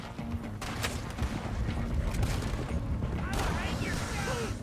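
Gunfire in Red Dead Redemption 2, a dense run of shots and booms under constant game noise, with a voice talking over part of it.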